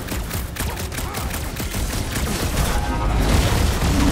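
Sustained gunfire aimed at a big robot in the superhero video game Marvel's Guardians of the Galaxy, rapid loud bursts and booms running together and growing slightly louder toward the end.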